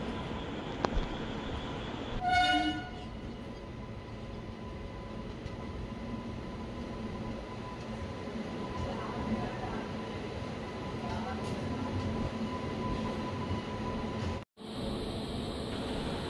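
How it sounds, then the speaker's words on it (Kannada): Inside the general compartment of an Indian express train entering Wadi Junction, a steady rumble and rattle runs throughout, with a brief horn-like tone early on and a sharp dropout near the end. "ಫ್ರೆಂಡ್ಸ್, ನಮ್ಮ ಟ್ರೈನ್ ಈಗ ವಾಡಿ ಜಂಕ್ಷನ್ಗೆ ಎಂಟ್ರಿ ಆಗ್ತಿದೆ."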